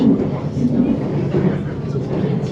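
An Elizabeth Line train running into the Connaught Tunnel beneath the Albert Dock in London, a steady loud low rumble and roar that fills the whole stretch, heard from inside the carriage.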